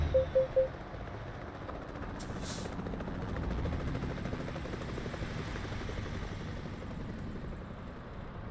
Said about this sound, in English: Helicopter somewhere.